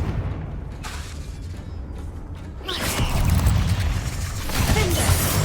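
In the Hogwarts Legacy video game, a Confringo blasting spell goes off with a sudden loud boom partway through, followed by sustained crackling, rumbling debris and creaking mechanical noise.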